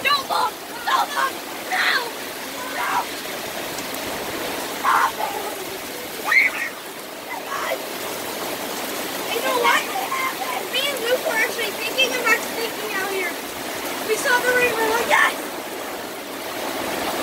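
Heavy summer heat rain falling in a steady, dense rush, with people talking and calling out intermittently over the downpour.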